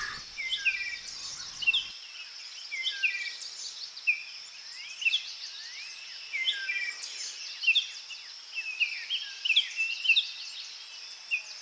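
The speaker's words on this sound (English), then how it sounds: "The mellifluous fluted notes of the wood thrush" Fluted, melodic wood thrush song phrases repeat every second or so over a steady high insect drone, clear and moderately near in a quiet woodland in humid summer.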